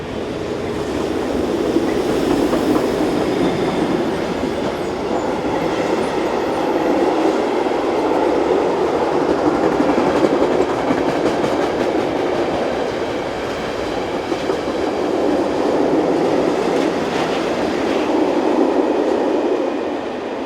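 ÖBB electric locomotives 1142-620 and 1144-225, the leading Class 1142 fitted with push-pull equipment, rumble along the Semmering Pass line with a steady, loud roar of passing wagons and a faint rhythmic rail clatter throughout.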